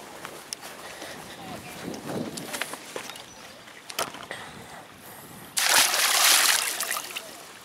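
A caught catfish released back into the water during carp fishing, a loud, brief splash and slosh near the end, after rustling and handling noises with a voice speaking over them.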